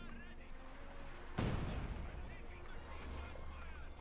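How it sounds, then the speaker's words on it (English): A single heavy burst of MG-42 machine gun fire with incendiary armor-piercing rounds in Company of Heroes 2, a sudden loud crack that rumbles away over a steady battlefield bed. "Hot burst there of lead from the MG-42 with incendiary armor piercing rounds"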